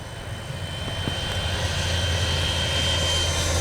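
A Freewing 90mm F-22 RC jet flies overhead, its ducted-fan engine giving a steady, rising whine and rush that holds throughout, moderately loud and alone.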